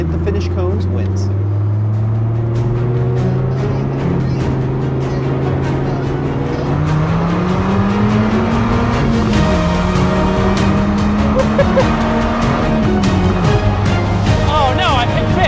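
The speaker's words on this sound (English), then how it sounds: "We're both going to accelerate up to 30 miles an hour." Supra and Viper sports cars accelerate side by side in a roll race, engine notes rising steadily in pitch across the run, loud and close, with a voice talking over the roar.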